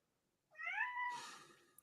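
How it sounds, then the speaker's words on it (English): A cat gives a single clear meow, drawn out and rising then falling, fairly faint and alone against silence. "I hear a kitty cat"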